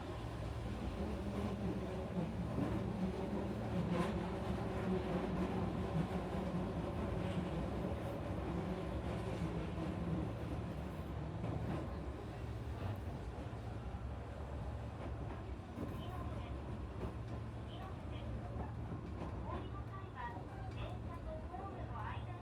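Eizan Line train in Kyoto pulling out of a station, heard from the back of the carriage: a low, steady rumble and hum of wheels and motor, fairly quiet and constant, with some faint voices mixed in.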